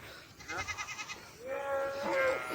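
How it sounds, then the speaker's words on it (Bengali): Goats bleat nearby on a livestock farm in Saudi Arabia, a quavering, wavering cry followed by another longer bleat, with faint background murmur. "এখানে সব ছাগল"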